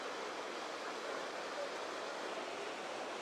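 The Shangarh waterfall in the jungle flows as a steady, dense broadband rush with no breaks, its water noise filling the whole clip at an even loudness.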